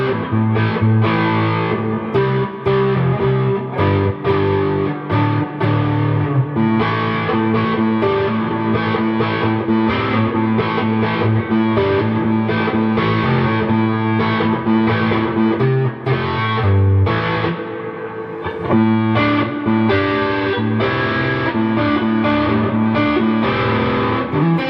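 Electric guitar played through a tiny budget tube screamer style overdrive pedal with the gain turned up, loud dense chords and riffs ringing continuously with a thick, driven tone.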